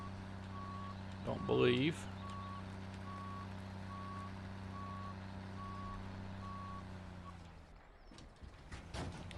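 A truck backing up in Farming Simulator 17 sounds a steady, evenly spaced reversing beep over a low engine hum, while someone talks briefly near the start.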